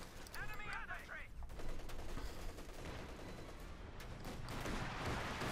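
Rifle gunfire crackles through a Company of Heroes 2 battle, a dense fusillade of shots and bursts sustained across the whole stretch, loud and busy with other battlefield noise mixed in.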